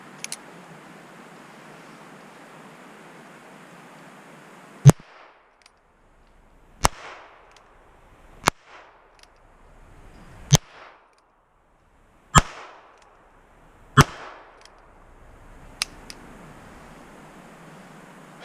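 Ruger Wrangler pistol fired outdoors, with seven sharp, loud shots spaced a couple of seconds apart, each cracking sharply and fading quickly between shots.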